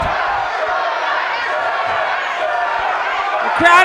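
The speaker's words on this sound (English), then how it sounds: "The crowd is yelling sugar." A fight crowd yells and chants steadily at a live bout, a loud, sustained wall of voices filling the hall, with a brief sharper thump near the end.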